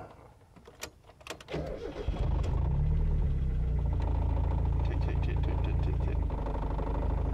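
A Mazda Miata autocross race car cranks briefly and catches, settling into a loud, steady rumbling idle close by, with people talking faintly before it starts.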